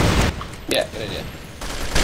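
Beretta AR-70 rifle fire in a video game comes as dense bursts of shots at the start and again near the end, with brief talking in between.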